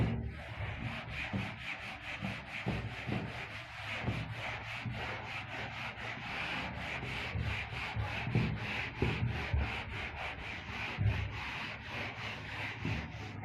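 An eraser rubbed rapidly back and forth across a classroom board, a steady run of close, dry scrubbing strokes in quick rhythm, heard alone.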